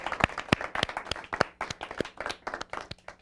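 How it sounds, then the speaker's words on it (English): Audience applause for a debate team on a live TV debate show, a burst of close, distinct claps with sharp individual hand strikes, fairly loud and steady throughout. "Let's give them a huge round of applause."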